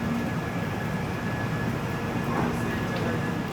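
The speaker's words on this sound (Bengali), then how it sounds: "10:45-এ আমাদের ট্রেন ছাড়লো।" The 12496 Pratap Superfast Express leaves from Kolkata with a steady low rumble of rolling coaches, heard from inside at a constant moderate level.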